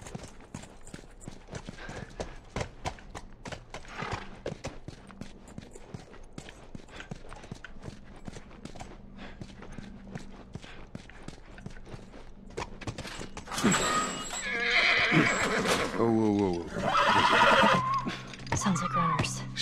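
Horse hooves clip-clop along for a while, then a loud horse neighs and whinnies twice near the end, with faint talk underneath, from the video game The Last of Us.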